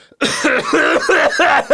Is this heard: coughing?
yes